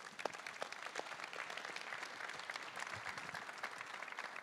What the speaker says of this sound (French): on peut saluer et applaudir les 2 qui sont au CDG